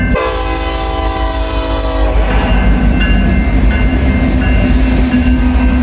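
Horn of a GE AC4400CW diesel locomotive sounds loud and close, a sustained multi-chime blast that cuts off after about two seconds, leaving the heavy rumble of the passing train and rail noise continuing to the end.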